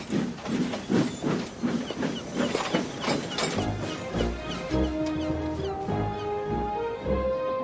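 Gordon the steam engine chuffing out of the docks, with rhythmic puffs and hissing giving way to heavy rolling rail rumble and mechanical clatter, close and steady.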